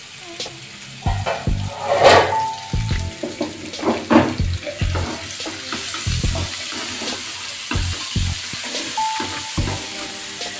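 Chopped vegetables are sautéed in oil for a chicken pizza topping, with intermittent stirring, clattering utensil scrapes and a soft sizzle, plus some water or sink-like sounds, and no talking.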